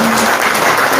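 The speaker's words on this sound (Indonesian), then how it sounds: "Berikan tepuk tangan dulu buat Pak Kapolri." A crowd claps steadily at a farming seminar, a dense wash of applause filling the whole moment.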